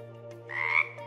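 A green frog gives a single loud, raspy croak close up, a short burst of about a third of a second over a low steady hum, with no voices.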